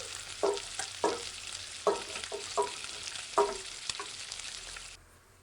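Grated carrots frying in hot ghee: a steady sizzle close up, broken by repeated scraping knocks of a spoon stirring in a pan, irregular in rhythm, with no voices.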